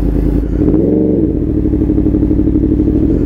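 A Yamaha MT-10 motorcycle rumbles loud and close at low speed, the engine note dipping and rising as the clutch is pulled for a gear shift, then settling into a steady throb.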